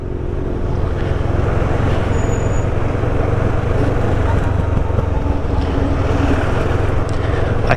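A CF Moto 650NK motorcycle engine on a test ride hums steadily at close range under heavy wind rush, the drone holding even with slight throttle variation.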